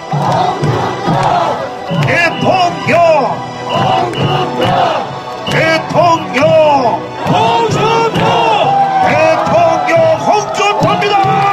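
A large crowd roars and cheers continuously at a Hong Joon-pyo presidential campaign rally in Daejeon, with many voices shouting and whooping together at close range, loud throughout.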